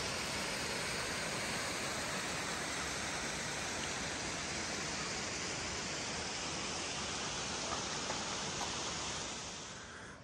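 A waterfall at upper Ancient Lake Falls, just below Judith Pool, roars as a steady, loud, full broadband rush, close and unbroken for the whole stretch and easing slightly only at the very end.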